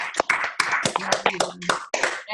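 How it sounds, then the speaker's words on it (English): Scattered hand claps and taps from a small group joining a morning motivational call, a few sharp, uneven bursts close to the microphone, mixed with brief voices cheering. "Round of applause for Andrea"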